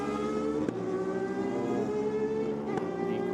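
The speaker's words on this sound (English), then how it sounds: "Quick shifter working hard on the Diablo there." Drag-race launch of a Ducati Diablo and a Yamaha R6 motorcycle at Sydney Dragway, a loud, sustained engine roar with rising revs and sharp quick-shift breaks near the start and end.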